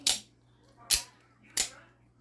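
A Boker OTF knife with a D2 steel blade fires out three times, each a sharp, close metallic snap spaced about a second apart and standing alone against a quiet background.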